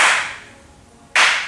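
Two sharp ritual hand claps before a bow in an aikido dojo, the first at the start and the second about a second later, each loud and close with a short ringing decay, no talking.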